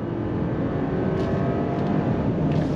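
A 2024 Mercedes-Benz GLE 450e plug-in hybrid SUV accelerates on throttle onto a highway, heard as a steady, loud low engine and road drone from inside the cabin with no speech.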